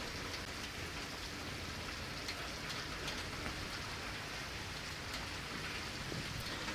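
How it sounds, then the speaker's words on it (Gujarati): Steady rain falls over the town of Babra, a dense, even hiss of drops on surfaces that holds at the same level throughout, with no voices. "બાબરા શહેરમાં આજે ત્રીજા દિવસે વરસાદ યથાવત છે"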